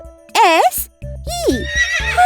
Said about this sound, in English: Hey, look! A horse there!